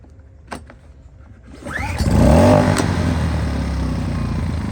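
An AIVOLT 1600W ultralight portable generator is cranked back up: a few quiet clicks, then the engine catches with a rising roar and settles into a loud, steady running drone close by.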